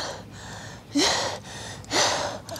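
Two sharp, heavy breaths at high altitude in southern Kyrgyzstan, drawn in close to the microphone, spaced about a second apart, with quieter exhales in between.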